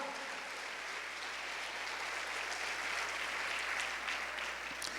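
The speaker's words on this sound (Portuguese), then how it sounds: "Se você crê nisso, aplauda bem forte a Ele." A church congregation applauds, a dense, even wash of many hands clapping together that holds steady throughout, heard from a moderate distance in a large room.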